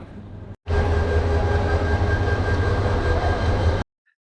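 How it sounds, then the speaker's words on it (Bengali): A train at a railway station, rumbling steadily and loudly with a constant hum for several seconds, then cutting off abruptly. "আমাদের ট্রেন হচ্ছে এটা"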